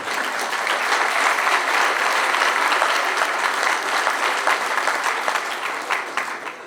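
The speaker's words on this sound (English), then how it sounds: "let us applaud you again." A graduation audience at Kingston College breaks into sustained, dense applause that fills the hall evenly for several seconds before easing slightly at the end.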